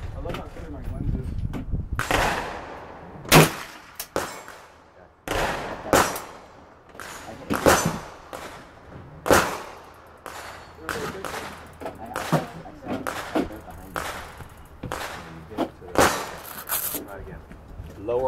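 Gunshots ring out at an outdoor shooting range as sharp, loud cracks spaced irregularly over about eighteen seconds, with a person talking between the shots.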